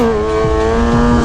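A motorcycle engine revs hard and steady as the rider pops a wheelie, a loud, close drone that holds one tone with a slight rise.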